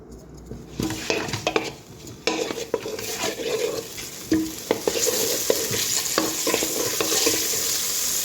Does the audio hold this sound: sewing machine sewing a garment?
no